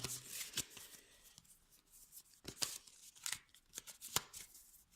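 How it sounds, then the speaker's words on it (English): A deck of cards being shuffled by hand close up, with repeated crisp riffling bursts and sharp card slaps spread through the stretch, no talking. "we've already pulled the card and we're shuffling it now as I'm speaking"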